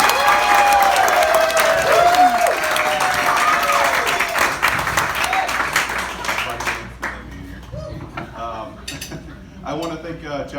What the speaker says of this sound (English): this is a round of applause for Anna and Lena